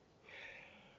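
A single sharp sneeze bursts out close by, a brief breathy blast that swells and fades within a second, with no talking around it.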